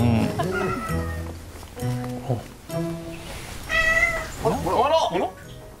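A cat meows several times nearby in a traditional Japanese inn, drawn-out and plaintive, while people talk over and between the calls.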